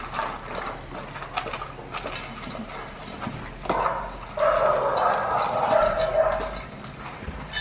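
Bully puppies bark and yip while being fed fish, a scatter of short nearby barks over shuffling and clattering, rising to a busier, noisier stretch toward the end.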